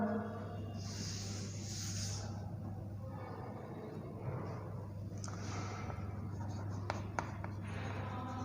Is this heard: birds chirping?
no